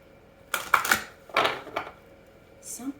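Tarot cards shuffled by hand in a few quick, crisp riffling bursts close by, followed by a brief light tap.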